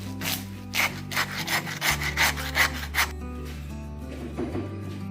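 A saw cuts down the middle of a deer carcass between the two back legs during butchering, with steady rasping back-and-forth strokes in a quick rhythm that stop partway through, close and fairly loud.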